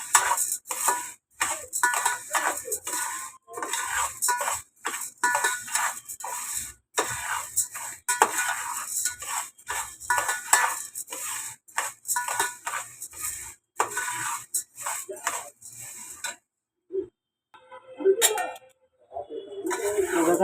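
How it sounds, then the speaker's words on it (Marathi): Rice and sorghum are dry-roasted and stirred in a pan, giving rapid scraping and clinking taps in irregular bursts, fairly close, with brief pauses near the end. Someone speaks between the stirring. "आता हे बघा हे थोडं थोडं करून भाजून घ्यायचं"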